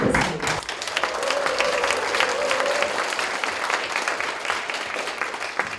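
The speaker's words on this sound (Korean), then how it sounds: "새누리당 정운천 국회의원님을 큰 박수로 맞이하겠습니다" Audience applause at a policy forum on future convergence industries as a National Assembly member is welcomed, many hands clapping in a dense, lively wash for several seconds, with faint voices mixed in.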